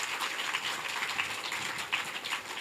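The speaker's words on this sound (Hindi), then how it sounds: "तालियों से स्वागत करिए ना" Steady, hissing applause from a crowd at a Hindu religious discourse, continuous and fairly distant, with no single claps standing out.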